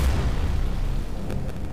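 A helicopter is destroyed in the Android naval combat game Modern Warships, giving a loud, sustained low boom that rumbles without a break for nearly two seconds.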